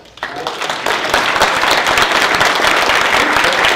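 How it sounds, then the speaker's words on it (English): Audience applause at a gala dinner event, starting sparse and swelling quickly into steady, dense clapping from a roomful of people, loud and close. "Big round of applause."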